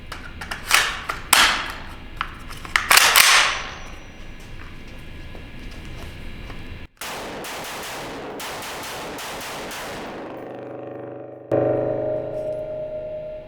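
Springfield Hellion VHS-2 bullpup rifle fired in a quick string of sharp, loud reports with short gaps, followed by a long stretch of steady background hiss and hum.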